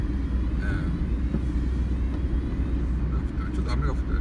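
Car interior while driving in rain, a steady low road rumble and engine drone filling the background with a faint hiss of rain on top, continuous and fairly loud throughout.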